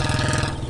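A motorcycle engine runs steadily close by, with a low, pulsing throb and rapid rhythmic firing that holds at a constant level for the brief moment, with no voices over it.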